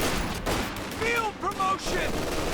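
A light machine gun fires in Company of Heroes 2 in sustained bursts of battlefield gunfire, mixed with whistling effects, while a commentator talks over it.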